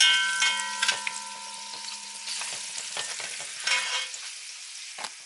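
Thyme and garlic frying in curry oil for curry bulgur, a steady crackling sizzle with a faint hum beneath and occasional sharper pops and spoon scrapes, close and moderately loud with no talking.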